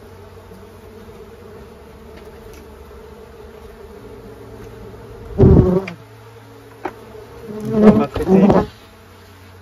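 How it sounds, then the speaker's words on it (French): Wasps buzz continuously in a steady drone near a nest inside a compost bin, with louder bursts of rustling and someone speaking briefly over the insects. "Donc beaucoup de petites guêpes."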